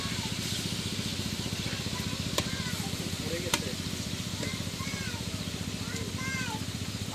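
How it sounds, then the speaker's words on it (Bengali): Fish frying in oil at a beach spot, a steady broadband sizzle under constant engine-like rumble, with nearby voices and a couple of sharp clinks. "এই মাছটারে একটা ভাজা দিতেছে তেলে রেখে"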